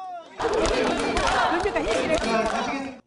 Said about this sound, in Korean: 어딜 가나 박수와 환호가 쏟아졌습니다